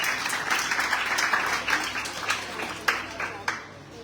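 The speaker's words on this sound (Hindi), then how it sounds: "जोरदार तालियों के साथ स्वागत करेंगे।" An audience at a school Hindi poetry recitation competition claps steadily to welcome the next participant, with dense applause throughout and a voice speaking over it.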